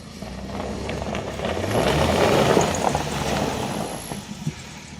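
A two-wheel-drive vehicle on Maxxis Trepador tires spins its wheels on slick, icy ground, its engine droning and swelling in the middle before easing back, close and steady.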